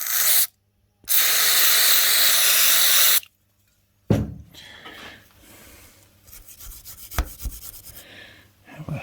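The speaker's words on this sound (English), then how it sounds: "I think it's time for some more spray." Lubricant sprayed onto Myford lathe parts in two long, loud aerosol hisses with a silent pause between, followed by quieter scraping and handling of the metal parts.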